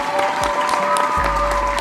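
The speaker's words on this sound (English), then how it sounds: "I want to clap it up for both sides." Applause from a crowd, a brief continuous wash of clapping with a faint steady tone running underneath.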